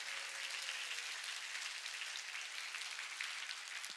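A church congregation applauds together in a continuous, even wash of clapping, fairly faint and distant, with no speech over it.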